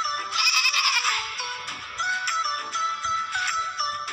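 Goats bleating in a farming simulation game, several overlapping nasal calls in quick succession, fairly loud and close, with no talk over them.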